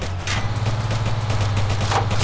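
Gunfire in the video game ARMA III, a loud continuous crackle of rapid shots over a low engine hum, no talking.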